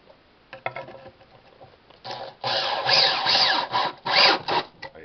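A pocket screw being driven to fix cabinet blocking, heard as close, uneven bursts of gritty rubbing and grinding, louder in the second half, with short pauses between surges.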